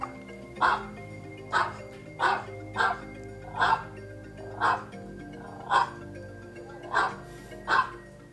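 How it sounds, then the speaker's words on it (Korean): A five-year-old Maltese barks repeatedly at a baby playing on a ride indoors, about ten sharp, evenly spaced woofs, close and clear, with a low household hum beneath. "강아지 얌마가 저희 아기가 놀이기구를 타거나 뛰어다닐 때 아기를 향해 짖습니다."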